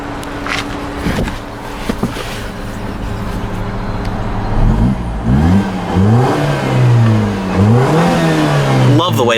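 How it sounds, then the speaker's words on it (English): A 2008 Mini Cooper Clubman engine idles and then is revved repeatedly, loud rising and falling sweeps in a quick series close by, with a person briefly talking at the start. "we'll go ahead and give it a quick rev"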